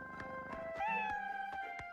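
A cat meows in a short, drawn-out call that bends in pitch, heard close and fairly faint over a soft background with a few light taps.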